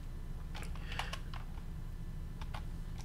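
Typing on a computer keyboard while entering a command to enable SSH on openSUSE Linux: a few scattered key clicks in short bursts, close and moderately loud, over steady low background hum, with no talking.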